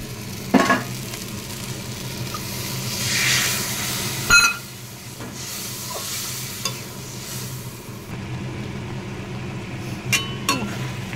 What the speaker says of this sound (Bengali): বাটিটা ধুয়ে জলটা দিয়ে দিন